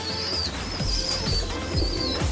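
Soft repeated cooing of domestic pigeons, including green-necked pigeons, in a loft, several low rolling coos in steady rhythm, with a faint high tone held through the background and no talk.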